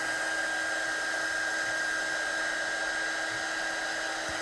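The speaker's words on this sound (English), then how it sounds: "You have to heat set your embossing powder. Just get my gun hot." A heat gun blows steadily to set embossing powder on a card, a constant close whooshing hum with a faint whine, unbroken throughout.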